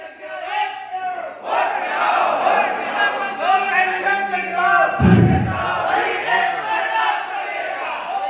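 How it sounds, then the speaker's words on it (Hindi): A crowd of workers at a Delhi protest meeting against railway privatisation chants slogans in unison, loud voices rising and falling in rhythmic call-and-response for several seconds. "सबके नारा लगाएगा, मजदूर एकता जिंदाबाद, इंकलाब जिंदाबाद"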